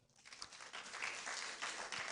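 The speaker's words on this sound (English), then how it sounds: "Let's clap for that." Audience applause at a university public lecture on international relations, a steady wash of many hands clapping that swells after a soft start and holds fairly faint and distant.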